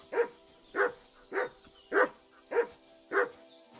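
A dog in the medieval game Kingdom Come: Deliverance 2 barks six times at a steady, evenly spaced rhythm, each bark loud and close, with no one talking over it.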